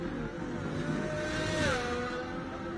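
A McLaren race car in a racing video game, Silverstone circuit, accelerates past with a rising engine whine and a brief whooshing swell at mid-distance, fairly quiet under game ambience.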